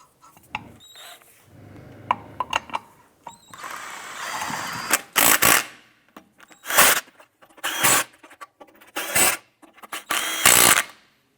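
A power tool drives wheel lug nuts onto the studs of a 2005-2007 Ford Five Hundred, several short whirring and rattling bursts separated by pauses, close by, after some quieter clinking at the start.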